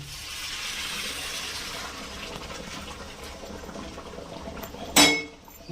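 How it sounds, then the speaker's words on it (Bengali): Hot water pours steadily into a pan of katla fish head muri ghonto, a broad rushing flow that fades gradually, followed by a single sharp clink of a vessel near the end. "এইবার আমি এর মধ্যে গরম জলটা দিয়ে দেবো।"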